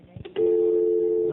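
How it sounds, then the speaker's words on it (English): A telephone rings with a single steady electronic tone during Hurricane Katrina storm coverage, loud and close, sustained for about a second after a few short clicks. "Let's go ahead and answer the phone here and see what we've got."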